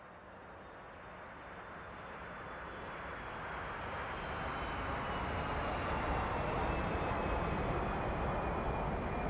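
A jet aircraft in the DCS or War Thunder flight simulator roars steadily as it takes off, its broad engine noise building gradually in loudness and holding strong to the end, with no talking.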